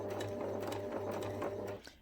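A domestic sewing machine runs steadily, stitching a teddy bear seam with a 5mm allowance, its motor hum and rapid needle chatter close and continuous before stopping near the end.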